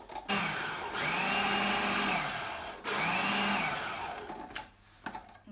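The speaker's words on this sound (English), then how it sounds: "What we want to do now is put the lid on and then pulse it." A food processor pulses flour and butter for shortcrust pastry in two loud whirring bursts of about two seconds each, close up, followed by a quieter clatter.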